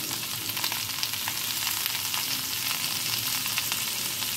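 Lightly fried vegetables sizzle in hot oil in a pan after turmeric and salt are added, as dudh shukto is being prepared. A dense, steady frying hiss carries on throughout, close and fairly loud.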